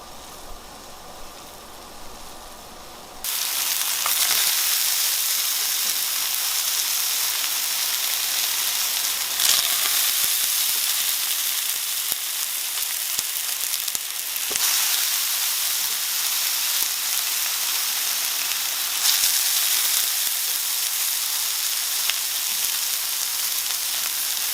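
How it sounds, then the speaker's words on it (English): Bacon and ramp potstickers fry in three tablespoons of oil in a pan, a steady loud sizzle and hiss that starts abruptly after a few quiet seconds and continues alone. "And then into the frying pan."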